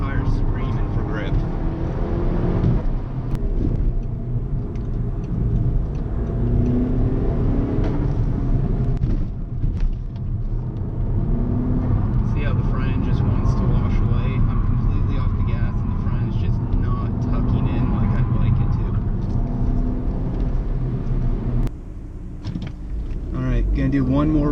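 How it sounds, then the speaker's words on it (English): Car cornering hard with its front tires screeching for grip during a run with the stock rear sway bar, a steady loud engine and tire roar running throughout under spoken commentary. "on the wind out you just hear the front tires screaming for grip"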